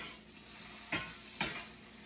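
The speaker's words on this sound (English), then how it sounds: "they're starting to sizzle" Food sizzles in a hot frying pan with a steady close hiss, broken by two short clinks of a utensil against the pan.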